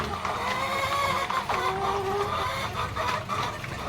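White Leghorn, Rhode Island and Deca Brown chickens cluck noisily close by, overlapping calls and one drawn-out squawk over a constant background hum.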